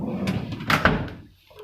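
A large storage drawer on a model S6100 anesthesia machine shuts with a quick double knock, close and fairly loud, over a steady low background hum.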